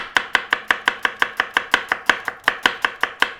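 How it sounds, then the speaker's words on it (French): A knife finely slicing a shallot on a cutting board: around fourteen crisp, evenly spaced chops in a quick steady rhythm, close and distinct, with no talking. "On va l'émincer."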